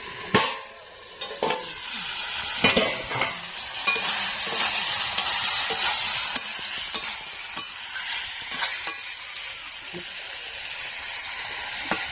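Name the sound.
pumpkin and potato frying and being stirred in pan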